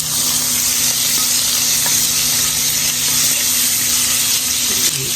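Sausage fries in a pan for a meaty baked bean dish, making a loud, dense, continuous sizzle that holds steady throughout with no voices over it.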